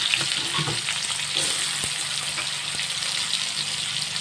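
Chopped onion and whole garlic cloves sizzle steadily in hot oil in a pan, a continuous close frying hiss with occasional soft stirring bumps throughout.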